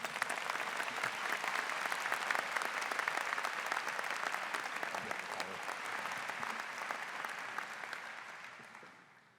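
Sustained applause from a large convocation audience welcoming a university dean, steady and dense throughout before tapering off at the end.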